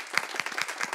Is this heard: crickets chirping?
no